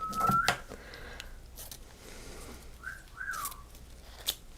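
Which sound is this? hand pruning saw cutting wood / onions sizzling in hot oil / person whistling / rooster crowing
person whistling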